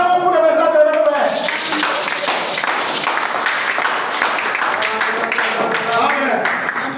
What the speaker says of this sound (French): Acclamons pour le message de notre frère.